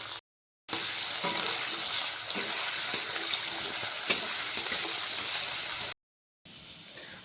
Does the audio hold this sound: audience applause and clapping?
no